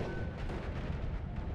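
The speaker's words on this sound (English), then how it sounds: "I see a lot of explosions" Dense, overlapping spell explosions from the video game Noita form a continuous booming, crackling rumble, loud and heavy in the low end with no pauses between blasts.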